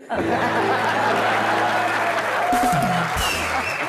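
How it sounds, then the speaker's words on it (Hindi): Studio audience clapping and laughing on a Hindi comedy show, a loud sustained burst of applause with a voice speaking over it. "तालियां मारने की जरूरत नहीं है"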